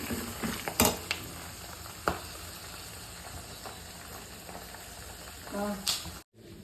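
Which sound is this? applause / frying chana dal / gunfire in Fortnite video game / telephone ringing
frying chana dal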